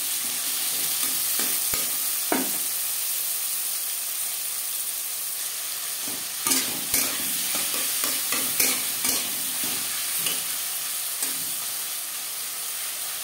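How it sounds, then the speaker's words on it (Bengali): Chopped tomatoes and green chilies frying in a pan over a low flame, a steady soft sizzle broken by scattered sharp spatula scrapes and clacks, close and continuous, with no talking. "কাঁচা গন্ধ যাওয়া পর্যন্ত নাড়াচাড়া করে নেব"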